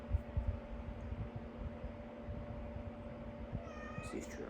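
Yoshi, a pet cat, gives a short, fairly close meow near the end over steady low room hum and rumble, with no talking.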